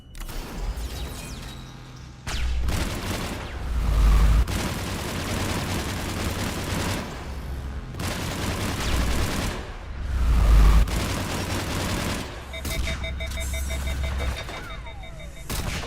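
Assault rifle fire in Mass Effect, a science-fiction shooter, comes as loud bursts over a game soundtrack, with heavy low thumps and electronic beeps toward the end.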